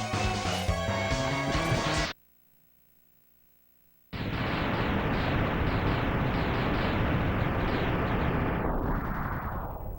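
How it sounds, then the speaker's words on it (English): A defeated boss in the video game Mega Man X blows up in a long, loud chain of crackling blasts after a short silence, preceded by a brief burst of game music. "Crazy explosion for that little dude, too."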